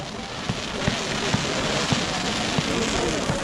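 Fireworks pop in a steady series of sharp cracks over a dense crowd roar outdoors at night, marking the start of the 41 km Raidnight 41 trail race in 2020.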